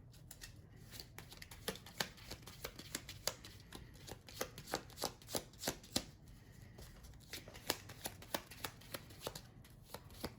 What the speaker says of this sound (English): Just shuffle in my deck real quick.